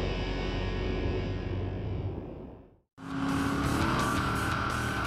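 V8 Ute race cars roar at Hidden Valley Raceway in Darwin, a loud dense engine blare that drops to near silence for a moment before another pack surges in close, with a rising whine and no voices.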